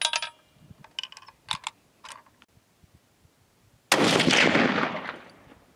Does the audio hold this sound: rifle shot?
yes